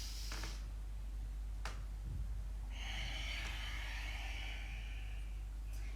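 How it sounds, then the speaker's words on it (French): A person breathing in deeply during a morning stretching exercise routine, with a few soft snort-like breaths and one longer, louder airy inhale near the close, heard alone in a quiet room. "J'inspire."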